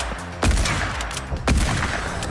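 Two loud hunting rifle gunshots in Fortnite, about a second apart, each a sharp crack with a rolling tail over steady game ambience.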